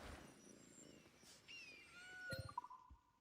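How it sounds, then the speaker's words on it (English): A cat meows inside Assassin's Creed Black Flag, a few short mid-pitched calls rising out of soft game ambience near the end, fairly faint. "There's a cat in here too, man."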